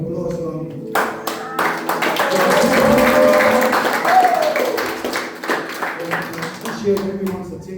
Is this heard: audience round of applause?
yes